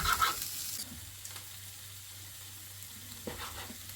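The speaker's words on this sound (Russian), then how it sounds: "Все, в принципе, лук поджарился, можно добавлять печень." Onion fries in a pan, a soft steady sizzle running underneath throughout, with a clatter of stirring at the start and a couple of light utensil knocks later.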